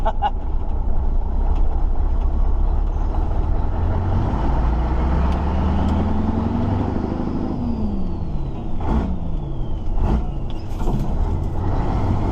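Scania 143 truck with a 12-speed gearbox driving, a heavy diesel engine rumbling up through the revs, then dropping in pitch and climbing again as gears change, heard from inside the cab.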